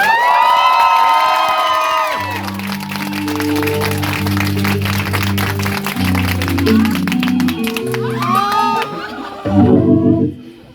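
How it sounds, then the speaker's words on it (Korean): Loud crowd cheering and whooping over steady applause at a live band concert, with upbeat music playing throughout and rising at the end. "박수 한번 주십시오"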